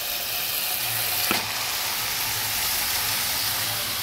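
Bottle gourd, lightly pre-roasted, frying in a pan with fried spices for a Bengali fish-head lau ghonto, making a continuous hiss with one brief sharp scrape partway through.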